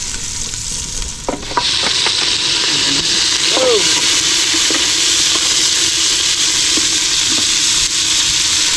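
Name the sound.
garlic sizzling as it fries in a pan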